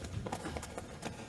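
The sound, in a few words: horse hooves clip-clopping, monk riding a horse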